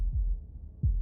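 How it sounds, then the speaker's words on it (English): Two deep, low thumping heartbeats from the video game Slay the Princess, one early and one near the end, sounding close and muffled over a quiet low rumble. "That was the sound of a heartbeat"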